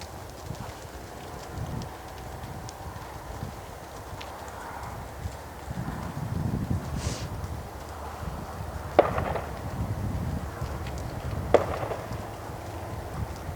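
Horse hooves cantering in an arena during a riding lesson, a soft, steady clip-clop rhythm at moderate distance with a couple of sharper knocks, a rider's instructor audible faintly at times.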